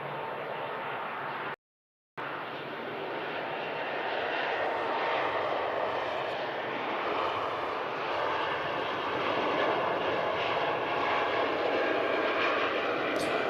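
Jet2 Boeing 757 engines at Manchester Airport, a broad steady roar after a brief dropout, loud and sustained, slowly building in intensity.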